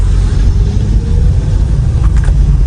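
A car idles and rolls slowly as it is driven up to a village camp to be parked, a steady low engine rumble close by with a faint brief squeal near the end.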